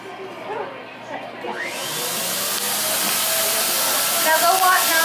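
An air blower at the Build-a-Bear bath station rinses a stuffed bear. It starts with a sudden loud, steady whoosh that keeps building, after brief quieter sounds and voices at the start.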